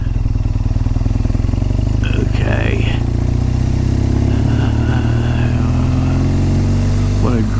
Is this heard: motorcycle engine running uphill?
yes